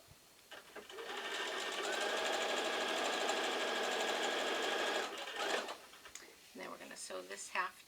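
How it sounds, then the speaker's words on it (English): A sewing machine joins two halves of a quilt block, humming loud and steady for about four seconds before stopping, with brief clicks and a voice talking afterward. "So we're going to just sew 1/2 together first."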